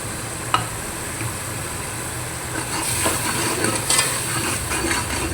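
Chicken sizzles steadily in a kadai while it is stirred, with the frying growing louder and denser partway through, plus occasional scrape and clink sounds.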